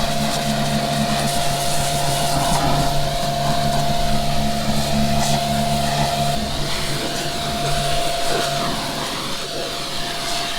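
Washing down a Massey Ferguson 135 tractor: a loud, steady, unbroken roar of spraying and machine drone with a constant whine running through it, and no voices.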